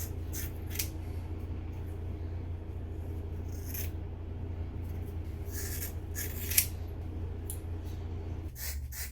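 Scissors snip through long hair before a head shave, several separate crisp cuts spaced apart over a low steady room hum, close but fairly quiet, no talking.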